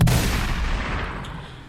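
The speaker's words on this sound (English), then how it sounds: "these gunshots are necessary for this segment" A loud, sharp gunshot bursts out at the start, then rings into a long, rumbling echo that slowly fades.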